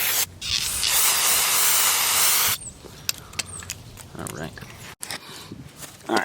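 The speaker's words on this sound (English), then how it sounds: "Next thing we're going to want to do is spray both of those bolts too." Aerosol spray hissing onto the trailing arm bolts of a 2008-or-later Volvo XC70 during a suspension repair, a loud close burst lasting about two seconds, followed by quieter clicks and handling noises.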